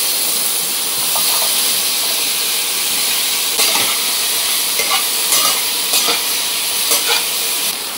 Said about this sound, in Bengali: সবজিগুলো ভেজে নেওয়ার পর